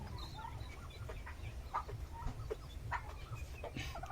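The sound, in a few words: Golden Sebright chickens, hens and roosters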